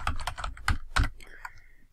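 Commit message typed on a computer keyboard, a quick run of close, crisp key clicks in uneven bursts, trailing off toward the end.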